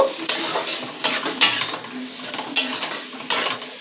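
Cauliflower and tomatoes sautéed in spice masala for a spicy Bengali phulkopi kosha, with a spoon scraping and clinking against the pan in irregular strokes over a low sizzle, close and moderately loud, no talking.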